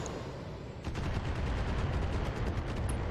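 Turrets in BattleTech open up with rapid, repeated gunfire: after a quieter start, a sustained stream of sharp shots rattles on steadily at close range for the rest of the stretch, with no talk over it.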